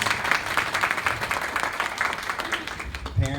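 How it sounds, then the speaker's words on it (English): Audience applause in an elementary school gathering for an honor society ceremony, brisk even clapping from a crowd for about three seconds before a voice begins over a microphone. "And give them a big clap for that,"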